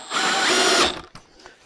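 A power drill drives a screw into a wood joint with a loud, close, high whirring burst lasting under a second, then cuts off into faint clicks and handling noise.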